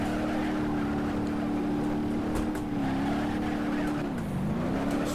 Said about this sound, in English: Just roasting those tires.